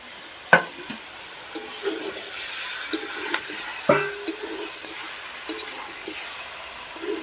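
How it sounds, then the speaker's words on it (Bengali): Green chillies sautéing in a pan of spiced chicken curry, a soft continuous sizzle broken by a few sharp scrapes and stirring clinks, close and moderate in volume with no talk. "লঙ্কাটাও ভালো করে কষিয়ে নেওয়া হচ্ছে বন্ধুরা"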